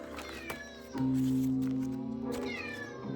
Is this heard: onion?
no